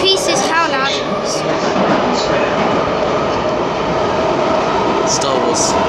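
A London Underground Piccadilly line train leaving Southgate gives a loud, steady rumble with an odd whining tone running through it, heard from on board, with a voice over the opening moments.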